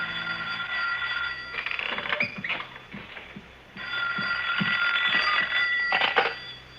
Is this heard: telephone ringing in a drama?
yes